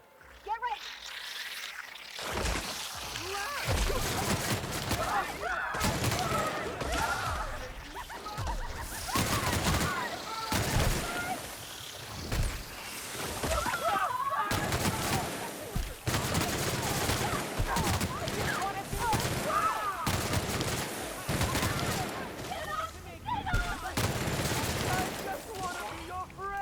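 A big gun fires in The Outer Worlds in long, rapid volleys of heavy, booming shots with short pauses between bursts, running loud and dense throughout.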